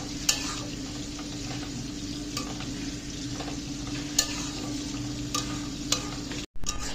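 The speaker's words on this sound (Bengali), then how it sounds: "এবারে আমি কিন্তু নুন হলুদ দিয়ে দেব, দিয়ে এটাকে ফোটাবো।" Leafy greens cook in a pan with salt and turmeric, making a continuous low bubbling hiss. A few sharp clinks of a utensil against the pan stand out. There is no talking.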